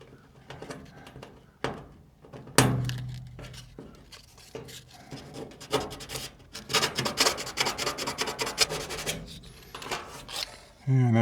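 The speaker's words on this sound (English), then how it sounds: "First thing I'm going to do is just sand off the paint on the ground, where my ground is going to be." Sandpaper rubbing paint off a metal grounding point on a carport, a rough scratchy scraping in uneven bursts that grows busier and denser toward the end, close by with no talk.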